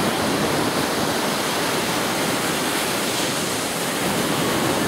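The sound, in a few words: water waves washing around legs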